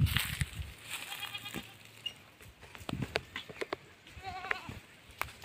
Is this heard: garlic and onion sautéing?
no